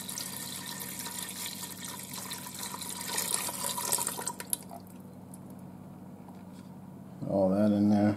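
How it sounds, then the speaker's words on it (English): Two cups of beef broth poured into a Ninja Foodi pot for taco pasta, a close liquid splash and trickle that thins out and fades, followed by a person speaking. "I'm going to go ahead and add my 2 cups of beef broth."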